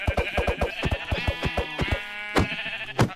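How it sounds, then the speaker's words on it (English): A Minecraft sheep bleats close and loud, a rapid wavering series of pulsing baas, followed by a couple more short bleats with nothing else heard. "Oh, sheep. Right off the bat."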